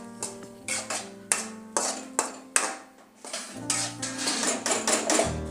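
A spoon stirs and mixes chicken biryani ingredients in a metal pot, making a rapid series of sharp, close clanks and scrapes over a steady low tone.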